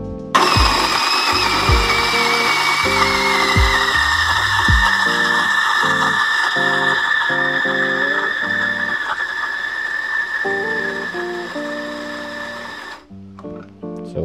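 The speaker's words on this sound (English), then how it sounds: "Then try ako mag-grind." A Gemilai CRM3812 espresso machine's built-in grinder grinding coffee beans at its finest setting produces a loud, continuous whirring motor drone with a high whine that shifts in pitch, running steadily before stopping near the end, with no talking.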